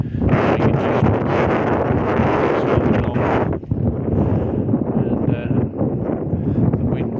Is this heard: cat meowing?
no